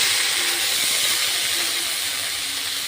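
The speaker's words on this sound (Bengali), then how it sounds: "তো আমি কড়াইয়ের মধ্যে নারকেলের পেস্টটা দিয়ে দিচ্ছি।" Coconut paste for barfi sandesh sizzling in a kadai, a loud, even, steady hiss that carries on without a break from start to finish.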